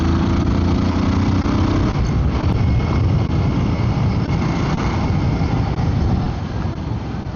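A Royal Enfield Guerrilla 450 cc motorcycle drones steadily while riding, its engine rumble mixed with constant wind rush and no pauses.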